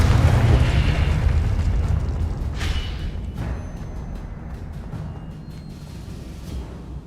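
Confringo blasting spell explosion in a Harry Potter video game, a loud deep boom that rumbles and slowly fades, with a few sharp crackling bursts along the tail.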